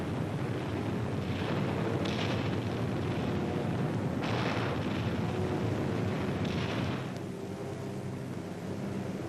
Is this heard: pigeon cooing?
no